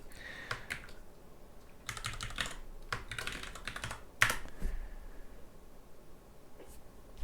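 Keystrokes on a computer keyboard come in scattered bursts of typing at close range, with quiet gaps between clusters and one sharper click near the middle.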